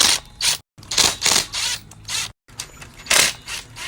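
Motor mount bolts come off a Razor 500 electric bike in close, bursty metallic ratcheting and clicking, broken by brief silent gaps, with no speech.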